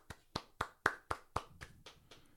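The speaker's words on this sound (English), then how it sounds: "I want to change the subject to a bit of applause." Eight sharp, evenly spaced hand claps ring out alone, quiet and close, slowing slightly and fading toward the end.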